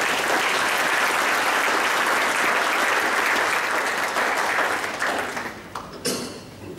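A church congregation claps together as an offering to the Lord, with dense, sustained applause that holds steady for several seconds and then thins out into scattered final claps.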